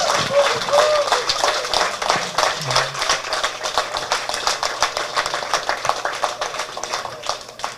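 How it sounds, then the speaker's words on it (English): Audience applauding a speaker at a political gathering, many hands clapping in a rapid, steady patter that carries on for several seconds, with a low engine-like hum and faint background sounds beneath. "let's give the big round of applause"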